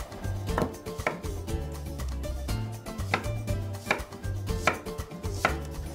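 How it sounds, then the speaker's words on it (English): Knife slicing a red onion on a cutting board, producing a quick, steady series of crisp chops and taps, close and clear over a low background hum, with no voices. "And while that's heating, I'm going to slice a red onion."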